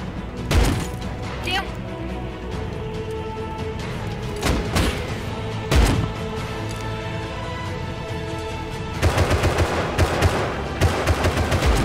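Bursts of gunfire from a shooter video game, several sharp loud shots spaced across the clip, then a rapid cluster of automatic fire near the end.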